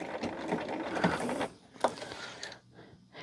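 A sewing machine stitches a quarter-inch seam in a brief, close mechanical whir with a few sharp clicks, fading into quieter handling noise by the end.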